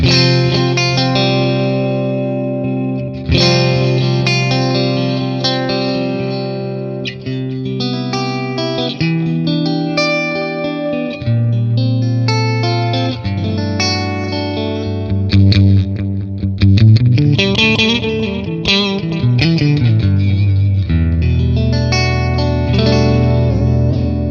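An electric guitar runs through a TONEX FX delay placed in front of the amp, playing a long melodic phrase with repeating echoes and a chorus-like shimmer, loud and continuous with no voices.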